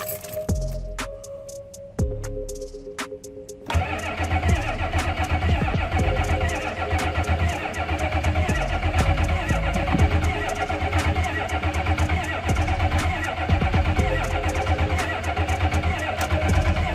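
A Ford F250 diesel pickup starts for the first time after sitting a long while: brief cranking attempts, then the engine catches and settles into a loud, steady, clattering idle.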